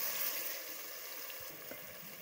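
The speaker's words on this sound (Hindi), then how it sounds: "मसाले को हमने अच्छे से भूनना है।" Spice masala of coriander powder and turmeric roasting in a pan for egg curry, a steady soft sizzling hiss with faint stirring.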